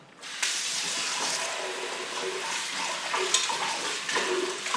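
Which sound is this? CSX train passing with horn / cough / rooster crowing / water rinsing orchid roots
water rinsing orchid roots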